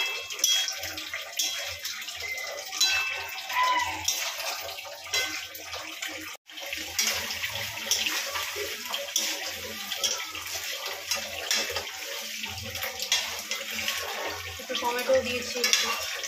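Prawns sauté in a pan with ginger, garlic, onion, cumin powder, salt, turmeric, chilli and a little sugar, giving a steady, close sizzle with faint stirring scrapes that continues throughout.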